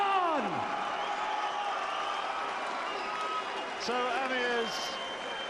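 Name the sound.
boxing arena crowd applauding the winner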